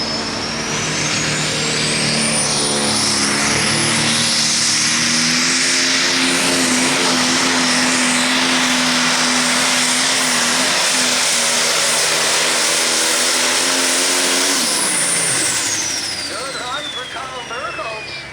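A high-revving International 540 diesel pulling truck screams steadily at the hook during an 8,500 lb class truck pull, its harmonic engine drone loud and sustained for most of the run before easing off at the end, with crowd noise and announcer chatter underneath.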